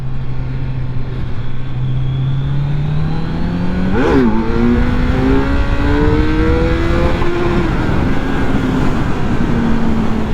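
Kawasaki Z900 naked middleweight motorcycle, 2020 model, pulling hard under acceleration while being ridden, its engine note climbing steadily in pitch with a brief shift blip midway, loud and close with constant wind rush.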